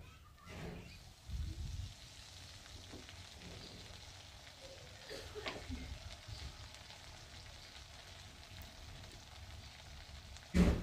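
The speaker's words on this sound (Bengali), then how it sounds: "কালার করে ভেজে নিব পেঁয়াজ আর রসুন কুচি একসঙ্গে" Chopped onion and garlic frying in a pan, a soft continuous sizzle with occasional clatters, then a louder splash as ginger-garlic-cumin paste is added near the end.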